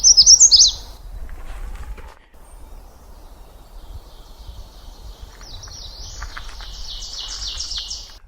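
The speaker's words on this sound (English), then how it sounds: "More ovenbirds. There are a lot of ovenbirds." Ovenbird song in a Maine woodland, a bright, rising series of rhythmic chanting phrases, heard briefly at the start and again at length toward the end, loud and fairly close over a low background rumble.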